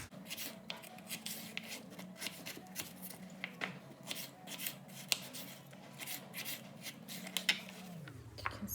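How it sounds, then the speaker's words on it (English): A knife chops a carrot into small pieces on a board in a fast run of soft, faint strokes over a low background hum. "I like to cut first the carrot to small pieces because then it's easier to cut."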